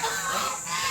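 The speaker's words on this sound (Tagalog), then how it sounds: "Duck." Ducks kept at an animal farm in Antipolo, Rizal honk in a short, loud burst, a brief nasal call standing alone with no talk.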